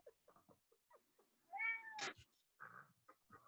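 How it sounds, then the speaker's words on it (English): A cat gives a single quiet, drawn-out meow close by, among faint scattered small noises in a hushed room. "Oh, hello, cat."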